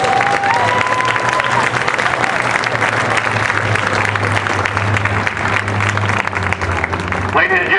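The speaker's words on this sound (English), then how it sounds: "Please give them a round of applause." A large outdoor crowd applauds special operators after a live exercise demonstration in Tampa, dense continuous clapping with some cheering, loud and sustained throughout, with a low engine-like hum running beneath it.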